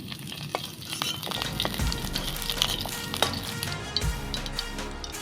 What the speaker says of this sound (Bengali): আলুগুলো আর একটু ভেজে নেব